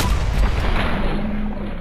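Shotgun blast in Fallout 4, one heavy booming shot with a rumbling tail that fades out over about two seconds, with no talking.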